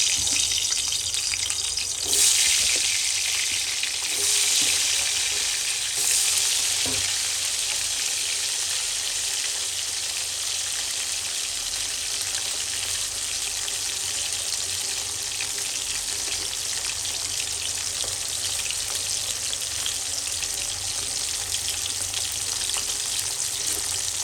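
Potato pieces marinated in turmeric and salt fry in hot oil, giving a steady, close sizzling hiss that runs unbroken for the whole stretch, with a few brief louder spurts near the start.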